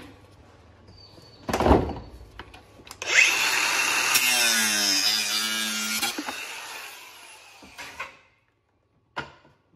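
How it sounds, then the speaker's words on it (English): A piece of timber frame from dry-rotted beekeeping gear is cut to size with a power tool: a loud, steady whirring cut lasting about four seconds, with a whine that bends downward, framed by a few sharp knocks before and after. "I'm just going to cut down, make the right size to go back into here"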